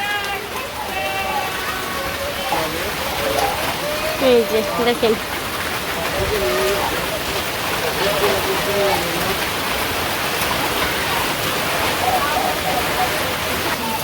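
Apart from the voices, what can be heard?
rain falling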